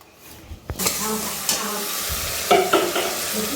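Bottle gourd curry cooking in a pan, a steady broadband sizzle with scraping stirs and a few sharp utensil knocks against the pot, close and moderately loud with no talking.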